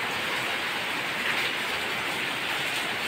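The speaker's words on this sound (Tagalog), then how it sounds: "biglang bumuhos yung ulan" Sudden heavy rain pours steadily in a workshop where a 4JB1 engine is being overhauled, a dense continuous hiss of downpour filling the space with no voices.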